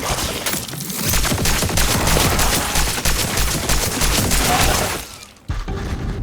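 Rapid gunfire from a weapon in the video game Cronos: The New Dawn, a dense burst of shots lasting several seconds over game music, cutting off briefly near the end before resuming.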